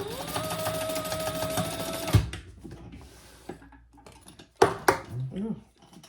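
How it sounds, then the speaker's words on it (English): A sewing machine bastes a D-ring in place on a caddy and diaper case pouch, running steadily for about two seconds before stopping, followed by quiet handling clatter and a brief voice. "now we're going to just baste our D-ring in place"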